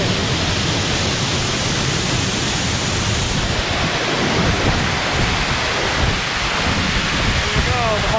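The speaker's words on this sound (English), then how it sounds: "There we go, the bottom of Whakeena Falls." Wahkeena Falls in the Columbia River Gorge pours as a steady, loud, broadband roar close by, with gusts of wind buffeting the microphone throughout.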